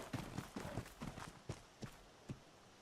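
Horse in the video game ARK Survival Ascended: faint, evenly spaced clip-clop hoof thuds, about eight in three seconds, fading toward the end.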